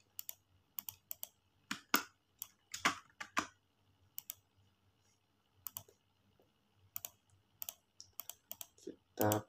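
Computer keyboard keys are typed in scattered quick bursts during a network switch configuration, with isolated key clicks and a few firmer keystrokes like a paste and Enter press, close and fairly quiet with a low hum beneath.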